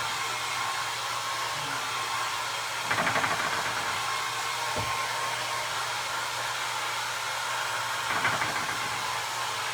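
A hair dryer blasts continuously and loudly, close by, drying barn red paint on a vintage wooden Christmas tree, with a couple of brief surges as it is moved and a faint knock partway through.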